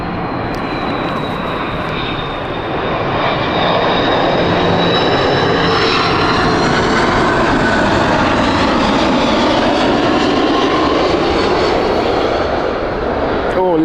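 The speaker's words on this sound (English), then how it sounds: "We've got an A350 Air India." Air India Airbus A350 airliner at Heathrow, its engines a loud sustained roar with a shifting whine, steady throughout as the jet passes close by.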